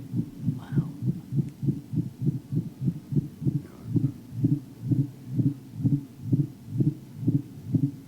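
Underwater recording of a minke whale, the smallest baleen whale, producing a steady train of low pulsing calls, about two pulses per second like a throbbing heartbeat, continuous and even over a faint hiss of sea noise.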